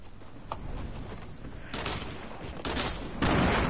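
Gunfire from shooting in the Fortnite video game on PS4, with a quick crack followed by bursts of rapid shots that grow louder and denser toward the end, over a rough steady background.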